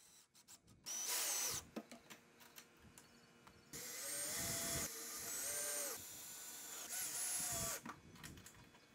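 A power drill drives screws to fasten clasps onto wooden cornhole boards in several whining bursts of about a second each, rising in pitch as the motor spins up, with handling knocks between them and no talking.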